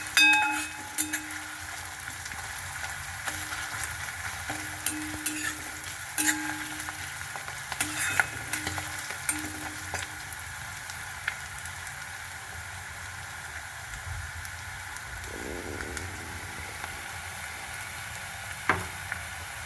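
Onions fry in a pan for Gujarati-style dal dhokli, giving a steady soft sizzle with intermittent scraping stirs early on, then the hiss carrying on alone and quiet.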